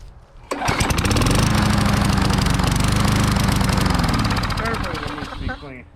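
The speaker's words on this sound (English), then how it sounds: "And there we go, lawnmower. It runs." A garbage-picked lawn mower's engine sputters to life and runs loudly and steadily nearby, with a rapid mechanical pulse, then begins to wind down at the end.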